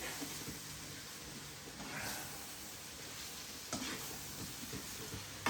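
Mushrooms frying over high heat in olive oil with garlic, giving a faint continuous sizzle broken by a couple of brief stirring scrapes.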